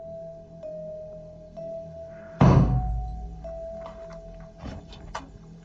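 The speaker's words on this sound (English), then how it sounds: "I just heard a knock upstairs." A single heavy knock thuds from upstairs in a cabin, one loud dull thump at mid-clip over a steady electronic tone, followed by fainter small clicks and taps.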